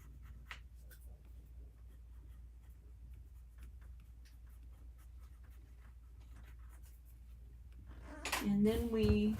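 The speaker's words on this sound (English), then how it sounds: "And now I think I want to use my Stabilo pencil." A Stabilo pencil draws on paper, making faint, close, continuous scratchy strokes over a quiet background. A voice starts speaking near the end.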